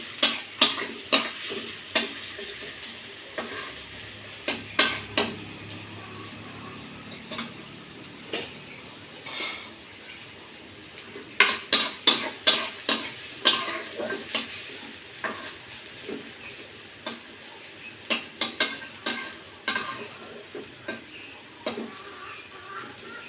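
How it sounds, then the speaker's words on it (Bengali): Chopped onion sizzling in oil as it fries to brown, with repeated sharp clacks of a spatula stirring against the pan at an irregular rhythm. "এটা আমি একটু বাদামি বাদামি করে ভেজে নেব"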